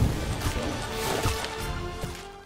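Fiery Incendio spell from the Harry Potter Magic Awakened video game, a roaring burst of flame with several crackling impacts and thuds over about two and a half seconds, loud and close against dense game effects.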